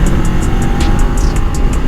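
A Kawasaki ER6 motorcycle, throttle-restricted at the grip, pulls steadily under acceleration while being ridden, its engine drone loud and constant with wind and road rumble throughout.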